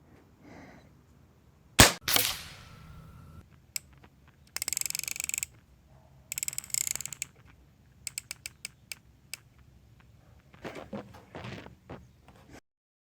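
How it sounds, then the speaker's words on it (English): A Hammerli 850 Air Magnum CO2 air rifle fires at a cardboard target: one sharp, loud crack, then scattered clicks and mechanical handling noises with short bursts of rattling. "I'm going to take a couple shots at this cardboard."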